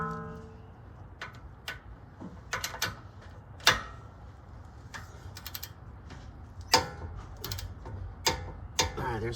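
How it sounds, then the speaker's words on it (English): A torque wrench works the lower ball joint nut on a 2004 Dodge Ram, giving a run of quiet, irregular ratcheting clicks and metallic ticks, several sharper clacks standing out over a low background hum. "Now I want to torque the bottom one to 40 foot-pounds."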